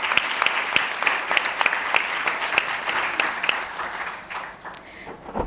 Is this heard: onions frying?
no